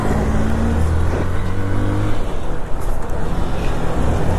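Motorcycles racing along a road during a group ride near Solan, a loud continuous engine roar with rising and falling pitch as the bikes accelerate close by, no speech.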